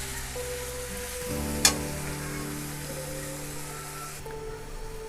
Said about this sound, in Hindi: अब इसमें मैं डालूंगी फलियाँ। इस मसाले में हम भुनेंगे अच्छी तरह।